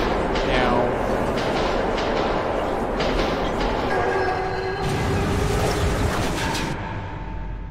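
A train passes in the video game Metro 2033 Redux, a loud continuous rumble of rail wagons with metallic squeals and clanks, sustained and close, with someone speaking over it.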